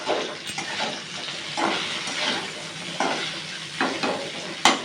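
Okra fries in a pan with a steady sizzle, broken by repeated scraping strokes of a spatula stirring it, close and fairly loud, ending with a sharp clack.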